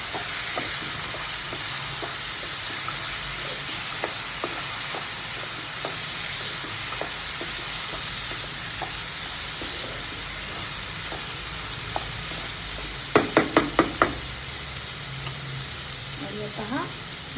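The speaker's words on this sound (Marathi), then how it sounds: "आता याच्यामध्ये भात टाकूया आणि भात पण थोडा परतून घेऊया" Rice being sautéed in hot oil in a kadhai for vangi bhaat, an Indian brinjal rice dish: a steady close sizzle with occasional stirring scrapes and a short burst of sharp clicks near the end.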